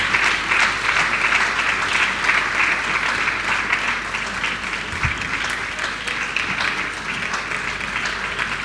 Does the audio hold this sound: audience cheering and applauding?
yes